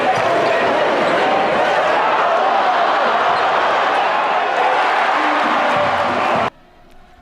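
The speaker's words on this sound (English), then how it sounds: "the crowd was roaring with energy throughout the entirety of the game" A basketball crowd in packed stands during a Sun Devils–Wildcats game roars loudly and continuously for about six seconds, with dense cheering and shouts, before the sound cuts abruptly to a quieter background.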